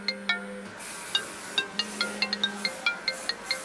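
A telephone rings with an electronic tone, a repeating pattern of short bright chiming pulses that sounds close and clear, with no talk over it.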